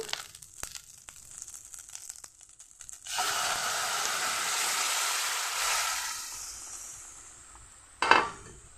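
Shukto vegetables with ginger paste hit a hot pan and sizzle loudly for a few seconds, fading gradually, followed by a brief clatter near the end; scattered faint clicks come before.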